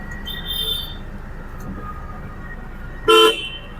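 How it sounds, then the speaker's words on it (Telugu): A 2015 Tata Zest diesel car gives one short, loud honk of its horn near the end, close by, after a few quiet seconds of background noise. "హారన్ కూడా పర్ఫెక్ట్ ఉంది"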